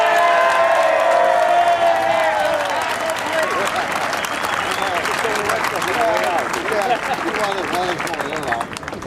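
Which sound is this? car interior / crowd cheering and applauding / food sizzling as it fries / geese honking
crowd cheering and applauding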